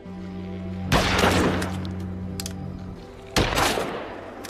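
Gunfire in a zombie film as zombie heads are shot, two loud sharp bursts roughly two seconds apart, each followed by a ringing decay and scattered debris-like crackles, with no talk.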